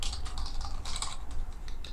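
Quick, steady clatter of keys as code is typed on a computer keyboard, close and fairly quiet, a continuous run of light clicks with no speech.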